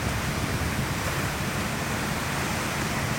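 Ocean waves wash onto a beach in a steady, dense roar of surf that holds without pause and with no voices.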